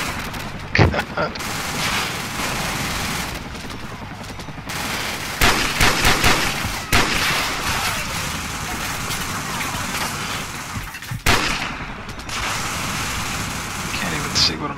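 Gunfire in the video game Call of Duty 4: Modern Warfare, bursts of loud rapid shots and rattling fire broken by brief pauses, with a voice talking at times.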